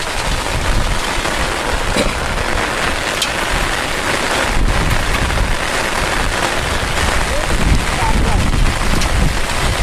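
Heavy rain pouring steadily, a dense, loud hiss of drops hitting surfaces with no pauses, close and unbroken.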